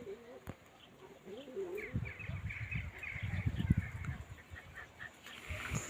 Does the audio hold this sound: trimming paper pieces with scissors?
no